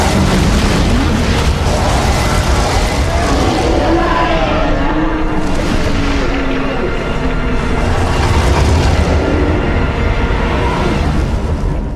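Fireworks spell in the video game Ultima 1, a continuous dense rumble of overlapping explosive booms and bursts, loud and unbroken throughout with no distinct pauses.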